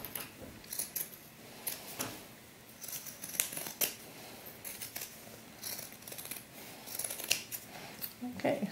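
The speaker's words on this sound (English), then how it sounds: "let's just go ahead and finish cutting this out" Scissors snip steadily through sheepskin for doll boot pieces, a run of close, crisp cuts in an irregular rhythm with brief pauses between strokes, fairly quiet and without talk.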